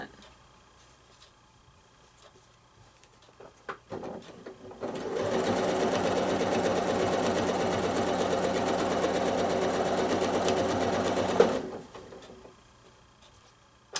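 A sewing machine runs steadily for free-motion quilting of circles and lines on a fence rail block, a continuous close whirring hum lasting about seven seconds after a few faint knocks, then stopping abruptly.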